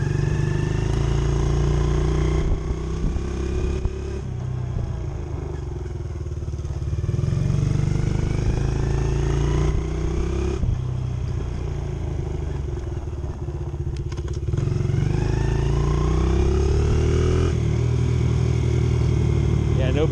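A Honda XR70 fitted with an 88cc BBR kit and a re-jetted carburetor climbs a hill in third gear, its engine a loud, continuous close-up drone that rises and dips in pitch as the throttle changes.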